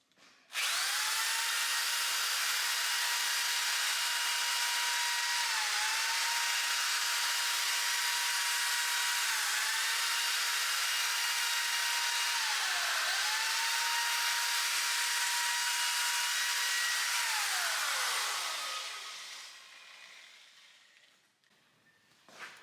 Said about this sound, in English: I've got the little piece of sandpaper folded in half, so I've got good grip on both sides. I'm just gonna spin it real fast.